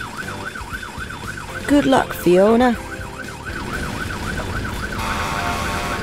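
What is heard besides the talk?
cartoon fire engine siren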